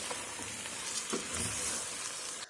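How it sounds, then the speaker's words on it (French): Rice and vegetables frying and being stirred in a pan, a steady close sizzle with occasional scraping stirs. "je vais mélanger le tout, une histoire de essayer de griller un peu mon riz et mes légumes"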